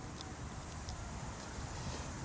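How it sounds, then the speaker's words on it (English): Wind blows steadily outdoors in a dusty spot, a constant low rumble buffeting the microphone for the whole stretch with no pauses. "now it's windy out"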